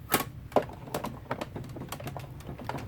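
Manual die cutting machine cranked for another pass through its cutting pads, giving a run of dry clicking, tapping knocks at an uneven rhythm, close and moderately quiet with no talk.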